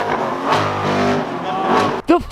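Hypercar engine revving loudly up close, a sustained roaring rev that climbs and settles before a sharp final blip, with voices talking over it.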